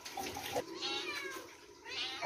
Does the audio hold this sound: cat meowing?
yes